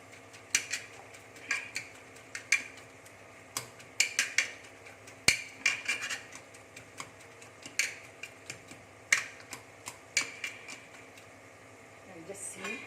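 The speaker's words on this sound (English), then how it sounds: "Yet we can just mash it with this." Cooked vegetables for pav bhaji being mashed in a pan, heard as steady, close knocks and clinks of the masher against metal, repeating about every half second to a second, fairly quiet.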